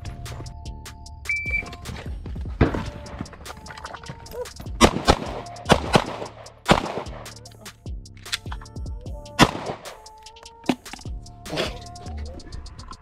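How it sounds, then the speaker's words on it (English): Pistol shots ring out during a timed shooting drill, sharp loud cracks in uneven bursts with gaps between them, and timer beeps and shots from other shooters nearby mixed in. "Six shots"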